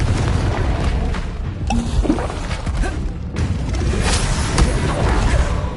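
A Confringo blasting spell explodes in the video game Hogwarts Legacy, a loud booming blast within a dense, continuous wash of battle noise that stays heavy throughout.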